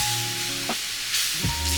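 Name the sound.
red wine sizzling and reducing in a pan for Bolognese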